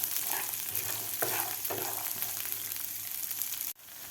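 Green peas, green chilli and garlic sautéing in a pan, a dense continuous sizzle with scraping stir strokes, close and loud, cutting off sharply near the end.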